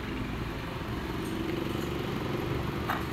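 Running Ford Explorer 3.5 V6 engine with a noisy, failing water pump bearing, giving a steady close-up mechanical drone and whir that holds continuously at even loudness.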